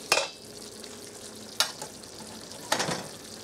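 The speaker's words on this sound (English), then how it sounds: "this dish has been simmering for quite some time now, about 10 minutes or so" A wild turkey stir fry simmers in a pan, a soft continuous sizzle close by, broken by three sharper scraping stir strokes spaced about a second apart, with no voices.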